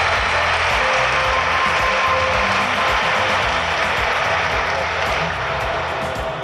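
Audience applause at a university ceremony, a dense, steady wash of clapping that fills the clip loudly and evenly, with low rumbling noise beneath it and no talk over it.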